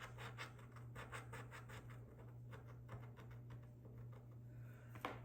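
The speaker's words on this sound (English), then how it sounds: "And I scratch this one off." A scratch-off lottery ticket being scratched by hand, a quiet close rapid rasping in short repeated strokes against faint background hum, ending in a sharper scrape.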